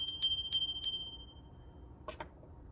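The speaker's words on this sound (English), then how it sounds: "I must ring the witch bell." A small witch bell rings with three bright, clear strikes early on, each leaving a short shimmering tone, followed by a quieter pause and two faint clinks near the end, heard alone in a quiet room.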